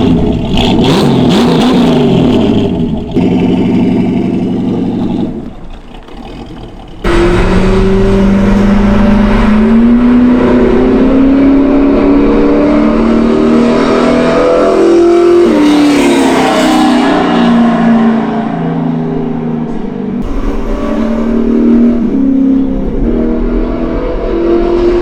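An old Jaguar with a cammed V8 swap and NASCAR-style exhaust cranks, starts and revs loudly, with a choppy idle broken by repeated rising and falling throttle blips.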